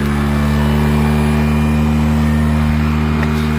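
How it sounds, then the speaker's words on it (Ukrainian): Cordless battery lawn mower motor running steadily, a smooth continuous electric hum with strong low tones and no revving, close and constant throughout. "звук е, від роботи двигуна досить такий м'який, не дуже шумний і м'якенький"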